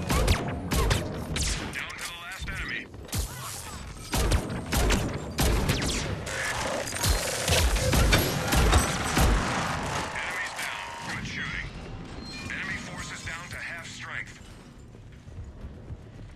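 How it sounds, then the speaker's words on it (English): Assault rifle fire in Mass Effect 3 multiplayer gameplay plays as dense, continuous bursts of loud shots mixed with mechanical clicks and game effects, with a person talking over much of it. "Dude, listen to this, like, it's an assault rifle too."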